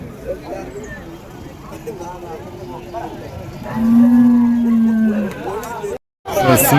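At the Uthangarai cattle market, a native bull and other cattle moo amid crowd chatter, one long loud low standing out near the middle before a brief gap.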